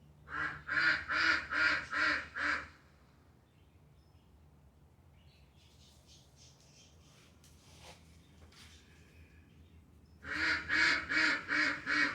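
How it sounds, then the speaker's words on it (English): Loud nearby duck quacks in a rapid burst of about six, quiet pause with faint chirps, then another run of insistent quacking. "I gotta go inside because the ducks are probably annoying the neighbors."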